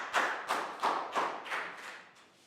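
A classroom of young children gives a round of applause, several quick bursts of clapping that fade toward the end, close by with no talking.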